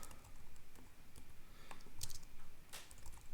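Keys clatter on a computer keyboard in short irregular bursts, close and fairly quiet, with no talking over them.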